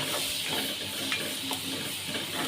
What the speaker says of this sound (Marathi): कांदा मिरची टाकणार आहोत.